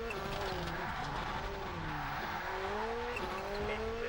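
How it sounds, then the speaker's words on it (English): A rally car in WRC Rally on PlayStation 2 slides through a hairpin on the handbrake, tires squealing steadily over the engine's rising and falling drone, loud and close. "That feels like handbrake to me"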